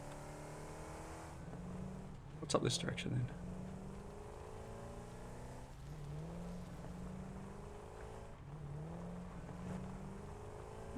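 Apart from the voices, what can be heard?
car driving in the video game Satisfactory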